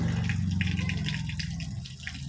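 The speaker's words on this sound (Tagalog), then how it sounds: "Parang spring na yung nangyayari kasi kusa nang lalabas yung tubig" Natural spring water flowing continuously out of the ground at a potable water source, a steady close trickle and gurgle throughout with a low hum beneath.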